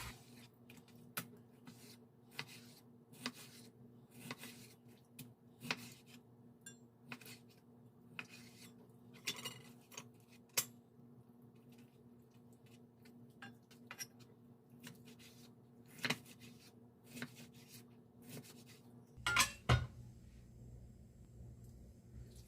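A knife slices through a whole raw chicken breast with a run of light, regular cutting taps over a steady low hum, ending in a louder clatter near the close.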